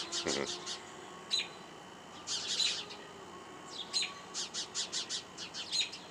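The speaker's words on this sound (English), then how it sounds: "More birds moving in over my head." Birds chirp overhead in short scattered bursts, moderately faint against a steady outdoor hiss.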